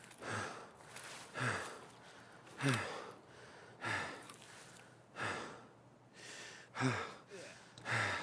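Heavy, rhythmic breathing from a character in the game Escape From Tarkov, with deep audible breaths repeating about every second and a half, close and fairly loud.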